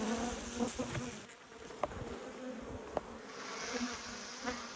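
Honey bees buzz around an opened white beehive, a steady droning hum with a few louder passes close by, no voices present.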